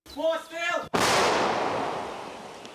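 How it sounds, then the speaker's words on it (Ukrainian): A voice calls out, then one deafening boom of a 122 mm Gvozdika self-propelled howitzer firing in a combat zone, its rumble slowly fading over the next two seconds. "Це самохідна артилерійська установка Гвоздика. Стріляємо!"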